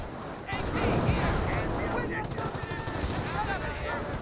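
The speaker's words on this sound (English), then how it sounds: "These forces starting to get hit by the MG." Sustained machine-gun fire in the World War II strategy game Company of Heroes, a dense, continuous rattle of rapid shots that runs loud and unbroken for several seconds, with other battle noise layered beneath.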